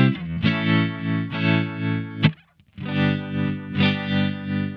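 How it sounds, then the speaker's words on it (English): Electric guitar run through a Line 6 HX Effects unit with a 60s bias tremolo, sustained chords pulsing in a steady lush rhythmic swell, with a brief pause midway before the wavering chord resumes. "Super lush tremolo sound."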